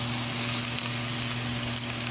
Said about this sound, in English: I'm going to grill a little onions and mushrooms